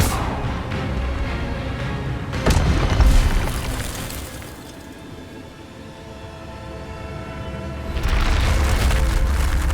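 In the video game Hogwarts Legacy, the Incendio fire spell goes off as a loud whooshing, rumbling blast with a sharp burst near the middle, then a renewed heavy roar toward the end.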